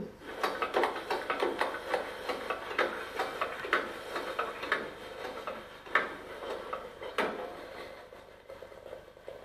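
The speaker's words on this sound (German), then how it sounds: "Die Wasserpumpe." A Gauge 1 class 56 model steam locomotive's water pump sound: a busy stream of rapid mechanical clicking and chuffing, irregular and continuous, moderately loud throughout.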